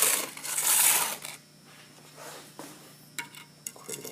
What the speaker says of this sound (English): Okay, so cut this mortar off